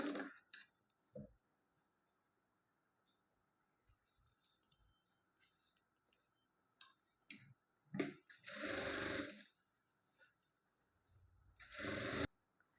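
Sewing machine stitching puff sleeves in several bursts: short stutters early on, then two sustained loud runs near the end, separated by quiet pauses with small clicks and fabric handling.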